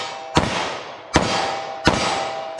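Three loud, close shots of 9mm +P Federal HST from a snub-nose revolver at an outdoor range, evenly spaced about three-quarters of a second apart, each sharp crack trailing into a long echoing decay.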